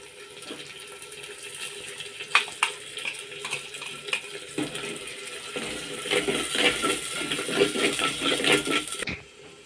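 Onion, garlic, ginger paste and masala frying in a clay pot for chicken, with steady sizzling, scattered clinks of a spoon against the pot and stirring scrapes that grow busier toward the end.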